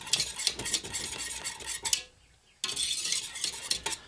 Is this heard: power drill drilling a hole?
no